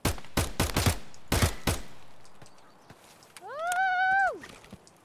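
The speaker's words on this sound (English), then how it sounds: "Who else is shooting me?" Gunfire in the shooter video game Escape from Tarkov: a quick burst of several sharp shots, then quieter impacts, followed by a loud rising-and-falling tonal whine near the end.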